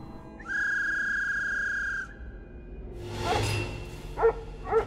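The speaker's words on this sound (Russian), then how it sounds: "А, свисток." A single steady whistle blast in a hidden-object adventure game set in the land of Oz, clear and close for about a second and a half, followed by a few short yips from a small dog.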